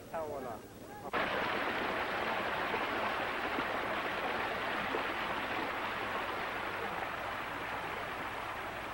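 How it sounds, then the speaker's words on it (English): Rushing stream water floods in abruptly after a quieter opening, a dense, steady wash of flowing water where carpets are washed by hand in a traditional Islamic setting, continuous and fairly close. "This is the usual way of washing carpets in the Islamic world, in the flowing water of a stream"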